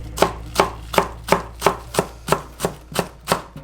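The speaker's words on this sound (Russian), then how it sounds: "Также нарезаем зеленый лук." A knife chops green onions on a board in an even rhythm, about ten crisp, distinct strikes, close and clear with no talking.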